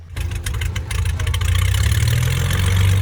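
A Cessna 207 aircraft engine idling while taxiing, a steady low droning rumble with a rough pulse, close and loud and building slightly, with no talk.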